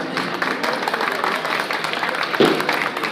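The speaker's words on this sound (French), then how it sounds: "on peut l'applaudir très fort" An audience applauds at a Belgian tennis event honoring a young player, with dense, steady clapping from a crowd holding at an even level and a brief louder burst near the end.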